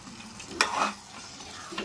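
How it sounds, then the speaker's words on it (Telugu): Jackfruit seeds dropped into sizzling tomato masala in a pan and stirred, with a soft continuous frying hiss and a short scraping stir in the middle, close and fairly quiet. "ఇప్పుడు ఇవి పనస గింజలు వేసుకుందాం"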